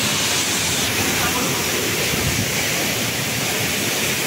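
Jharna waterfall in Dhankuta, Nepal: a steady, dense rush of falling water, broadband and constant throughout, close and fairly loud with no breaks.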